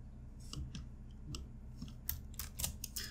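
Computer keyboard keys click sharply while someone works in GIMP: a few sparse taps, then a quicker cluster near the end, close and fairly faint over a low background hum.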